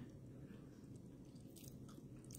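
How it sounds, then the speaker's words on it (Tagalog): A mouthful of food is chewed close up, soft, steady crunching and biting sounds running continuously and quietly with no talking. "Pakinggan niyo muna po yung aking nguya."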